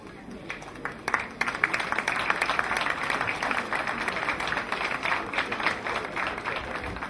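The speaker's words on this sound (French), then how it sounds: "Sous vos applaudissements, s'il vous plaît" Audience applause at an award ceremony, many hands clapping steadily in a hall, fairly faint and distant, swelling after the first second and holding evenly to the end.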